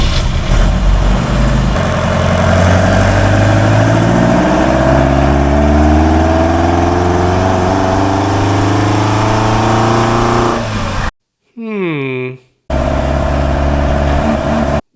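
Engine of a Pilgrim Sumo AC Cobra replica on a test drive, loud and close, a steady drone rising in pitch as it accelerates, then a brief cut-out and restart with a short rev before running on.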